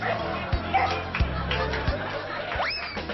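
A dog's barks stand in for a car horn: four sharp yaps at roughly even spacing, close and fairly loud, with a rising whistle-like tone near the end.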